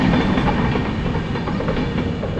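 Konkan Railway train rolling past near Panvel in the evening, a steady loud rumble with faint rail clatter running through the whole stretch, with no voices.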